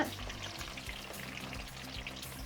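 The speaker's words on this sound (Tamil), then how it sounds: "மாங்காயை ஒரு ரெண்டு மூணு நிமிஷமாக நான் எண்ணெயில் பரட்டி விடுறேங்க மிதமான தீயில் வச்சுட்டு" Raw mango pieces frying in oil over a medium flame give a steady, close crackling sizzle that carries on evenly throughout, with no voices.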